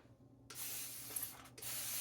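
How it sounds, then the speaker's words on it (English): A misting spray bottle filled with plain water sprays onto curly hair in two close bursts of fine hiss. There is a brief pause between the bursts. "My big spray bottle, this just has water in it."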